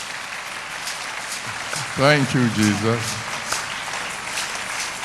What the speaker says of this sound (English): Clap if you are clapping.